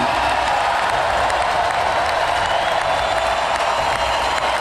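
Large packed crowd applauding and cheering, a dense continuous wash of clapping with a steady roar of voices underneath, loud and even throughout.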